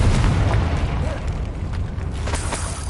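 A Confringo explosion spell goes off in a Harry Potter video game, a dull booming burst in a dense, noisy game mix that rumbles for a few seconds.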